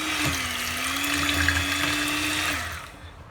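Electric hand mixer whirring steadily at low speed through a no-bake chocolate cake mixture, a constant motor hum with a continuous churning wash, close and alone, then switching off near the end.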